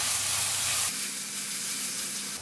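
Paneer masala mix being stirred in a hot pan, giving a close, steady sizzle and hiss that drops a little partway through and then carries on evenly.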